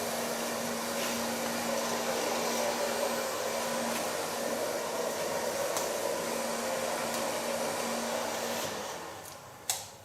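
A hair dryer blows steadily on hair during a cut and colour session, a continuous loud whooshing hum that runs for most of the stretch before winding down and clicking off near the end.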